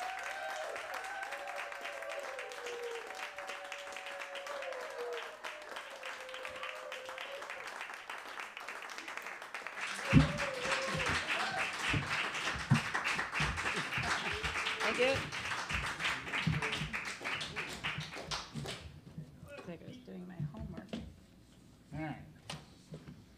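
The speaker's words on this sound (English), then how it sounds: "if you give them a round of applause" A live-music audience gives a round of applause for a band as they come on stage. Talk and a tonal voice come first, then scattered clapping and crowd noise swell at mid-clip and fade toward the end.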